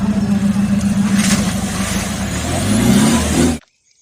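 A Mahindra Jeep engine runs loud and steady, its rumble climbing in pitch toward the end as it revs, then cutting off abruptly.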